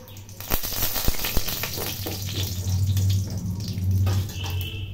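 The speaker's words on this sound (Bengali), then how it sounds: "এই ফোড়ন খুব ভালো করে ভেজে নিতে হবে" Dried chili, bay leaf, whole cumin and garam masala frying in hot oil for a Bengali muri ghonto tempering, a steady crackling sizzle with a low background hum throughout and no talk.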